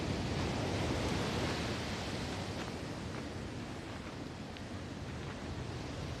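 Sea waves wash against the shore in a continuous soft roar of surf, broad and steady, slightly louder at first and then settling, with no voices.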